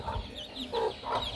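A backyard hen clucks in a few short, fairly close bursts spaced about half a second apart, with some faint background noise between them.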